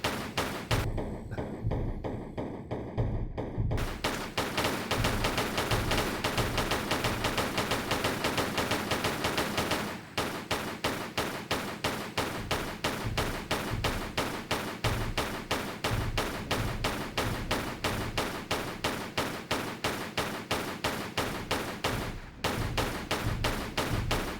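Rapid, sustained gunfire from weapons in the Tomb Raider III video game, at the Crash Site level: relentless machine-gun-like bursts of shots hammering on for over twenty seconds with only brief breaks, loud and continuous.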